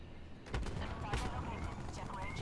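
Video game shotgun fire: a few sharp, scattered blasts at fairly low level over a busy background, with a voice faintly present.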